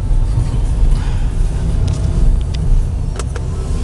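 A car drives through a city in the evening, heard from inside the cabin as a loud, steady low engine and road rumble, with a few faint clicks and squeaks over it.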